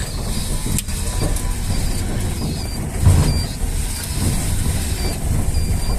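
A homemade electric car converted from a wheelchair drives off after turning around, giving a steady, fairly loud whirring motor hum with rolling and rattling noise throughout, close and with no talking.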